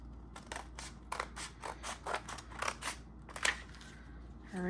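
Scissors snip repeatedly through paper or cover material while a handmade journal is trimmed, a quick rhythmic series of close, crisp cuts with brief pauses between strokes.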